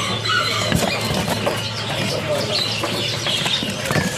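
A caged male songbird calls in short high chirps and squeaks amid a busy, noisy background with a steady hum.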